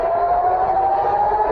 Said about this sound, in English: Sirens sounding in Tel Aviv.